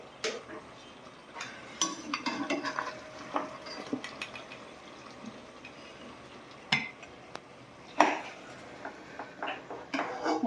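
Cooked meat lifted out of thick spice masala in a pot for Old Dhaka tehari, with scattered clinks and scrapes of a metal spoon against the pot and soft wet stirring sounds, no talking.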